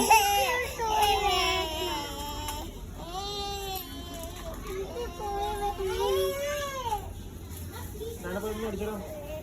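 A child cries and whimpers with wavering, sobbing wails through a busy shopping setting, loud and close, while an adult talks over it.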